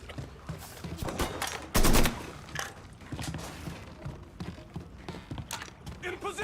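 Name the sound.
gunfire in the video game Mafia 3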